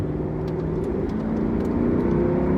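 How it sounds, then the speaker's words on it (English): A roughly 20-year-old Mercedes W220 S500 with rust issues accelerates hard, its V8 engine droning in a loud, steady rising tone inside the cabin, with no talk. "when required you can still put your foot down and it gets moving, and what a glorious sound that makes"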